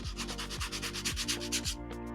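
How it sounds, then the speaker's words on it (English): Wood pieces for a challenge coin box being hand sanded, a rhythmic back-and-forth scratchy rubbing with about eight close, even strokes before it stops near the end. "I'm gonna do some more sanding"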